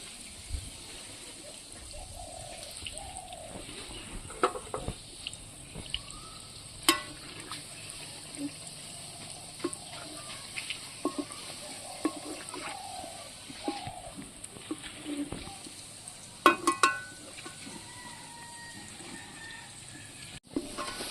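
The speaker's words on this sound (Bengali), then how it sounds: "এইভাবে লাল লাল করে সুন্দর করে ভেজে নেব।" Roti pieces for gulab jamun fry in oil until deep red, giving a quiet, steady bubbling with scattered soft pops and a few sharper crackles throughout.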